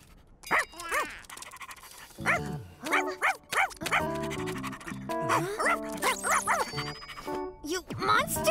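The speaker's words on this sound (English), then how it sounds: "That's just a puppy, not a monster!" A cartoon puppy pants in quick, breathy bursts close up, with soft dog-like vocal huffs, mixed with animated character voices talking and exclaiming.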